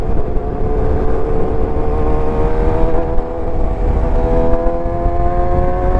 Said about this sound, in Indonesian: Nah, ini turunin gigi satu lah